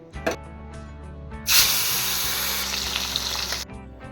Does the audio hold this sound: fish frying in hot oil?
yes